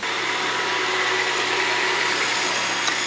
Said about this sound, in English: We're going to put the puppy on the Roomba, the vacuum.